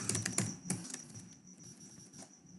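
Rapid keystrokes on a computer keyboard while entering text in AutoCAD, a quick cluster of close, crisp clicks at the start that thins into sparser taps and quiet room noise.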